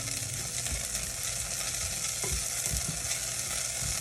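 Vegetables sautéing in oil in a saucepan, a constant close sizzle with occasional soft knocks of stirring.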